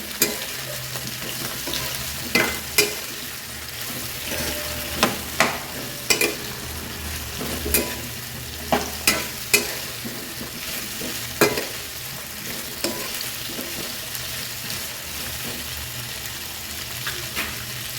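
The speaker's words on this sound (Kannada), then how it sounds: "ಹೀರೆಕಾಯಿ ಎಣ್ಣೆಗೆ ಚೆನ್ನಾಗಿ ಫ್ರೈ ಆಗಬೇಕು." Chopped ridge gourd frying in oil in a pan, a steady sizzle broken by regular stirring knocks and scrapes of a spatula every second or two, close up and without talk.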